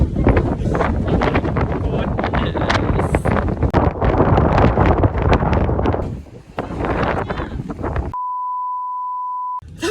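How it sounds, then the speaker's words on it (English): Strong wind on a hike in Tasmania buffets the microphone in loud, rough gusts for several seconds, then drops away, leaving a steady electronic beep tone. "I cannot tell you how windy it is."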